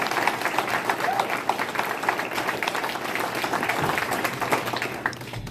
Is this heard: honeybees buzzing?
no